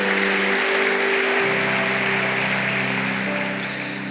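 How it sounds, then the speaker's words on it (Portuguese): Congregation applause during a church sermon, a continuous dense wash of clapping over a held musical drone, gradually easing off. "Você pode dar um aplauso ao Senhor?"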